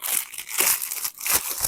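Plastic shipping bag crinkling up close, a brief run of sharp crackling rustles in quick bursts with no talk.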